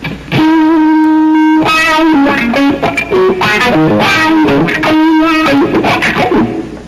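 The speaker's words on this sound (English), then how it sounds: "It's a wah-wah and a volume pedal, depending upon which application you put it to." Electric guitar played through an FX17 wah-wah and volume pedal plus distortion, loud and close, with sustained notes and quick phrases sweeping in tone.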